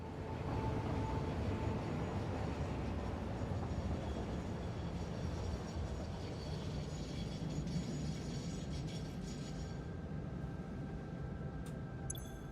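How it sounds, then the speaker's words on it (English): A locomotive rolls steadily along its rails in the factory-building video game Satisfactory, a dense, continuous rumble and clatter holding at an even loudness throughout with no voices. "let's take control of the train"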